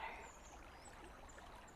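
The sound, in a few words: trickling water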